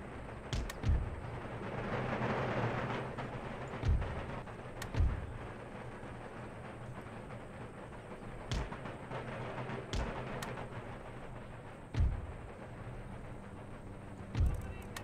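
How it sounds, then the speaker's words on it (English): Artillery shrapnel shots in Empire Total War, a series of sharp booming reports spaced a few seconds apart over a low battlefield rumble, some near and punchy, others softer and more distant. "I heard a shrapnel shot whiz over."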